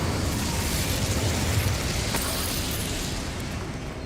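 The Incendio fire spell in Hogwarts Legacy erupts as a loud, roaring whoosh of flame that stays dense and constant for about four seconds, easing off slightly at the end, with no voices.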